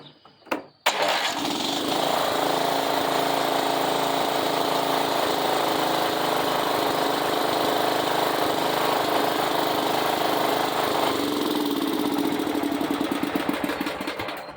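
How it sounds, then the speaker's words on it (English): A Yard Machine lawn mower with a massive oil leak starts with a brief pull and sputter, then settles into a loud, steady engine drone that holds close and constant before easing slightly near the end. "Started up and ran it"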